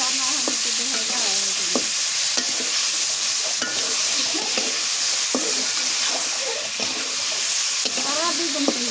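Onion paste frying in a pan as it is stirred, a steady loud sizzle with repeated scraping strokes of the spoon throughout, no voices.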